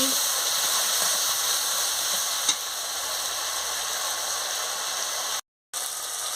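Spice paste for a paneer curry fries with added water in a pan, making a loud, even, continuous sizzle with one faint tap of a utensil. It is close and steady, with a brief cut-out near the end.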